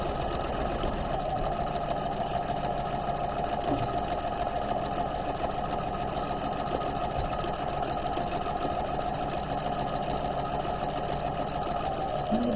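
A sewing machine runs steadily stitching along the top of a raglan sleeve, a continuous fast even whir close by for the whole stretch, without pause or voices.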